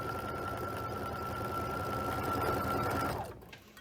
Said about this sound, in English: we're just going to sew that diagonal seam